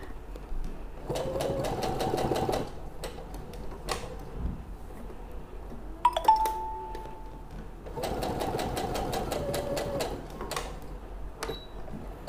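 A sewing machine stitches a fit and flare dress in two fast, rhythmic runs with clicking pauses between them, close and fairly quiet.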